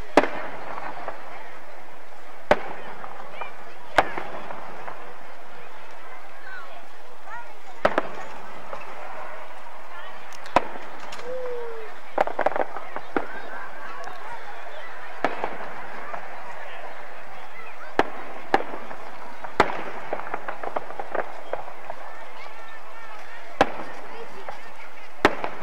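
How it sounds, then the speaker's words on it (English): Fireworks at an outdoor Christmas parade: a long run of sharp, fairly distant bangs and crackling pops, irregular and sometimes clustered, over a steady wash of crowd background. "Outstanding fireworks. I particularly like the ones where the stars come out."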